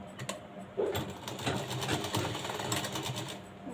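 A sewing machine stitches a hook strip onto a blouse with a rapid, continuous mechanical rattle, close and steady, its pace shifting slightly as the seam runs.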